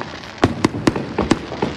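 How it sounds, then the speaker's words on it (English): Fourth of July fireworks burst in a quick series of sharp pops and bangs, about six reports within two seconds, over a steady outdoor rumble. "Hope you guys seen fireworks."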